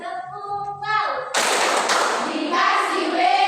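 A group claps together in an Indonesian clapping game at a daytime gathering. A voice comes first, then a loud, dense burst of many hands striking at once continues steadily to the end.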